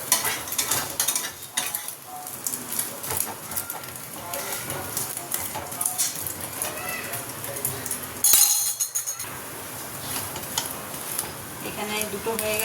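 An egg roll cooking in a home kitchen pan, with steady frying sizzle under repeated clinks and scrapes of a utensil stirring and turning it, close and busy throughout; no talk.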